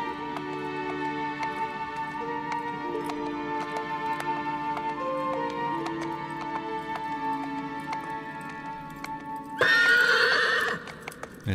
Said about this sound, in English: Maybe this is just a nervous horse.